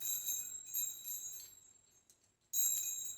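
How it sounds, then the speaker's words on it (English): Small high-pitched wind chimes tinkle in light, scattered strikes, with a quieter gap before a brighter jingle returns, faint and close. "Very high-pitched chimes."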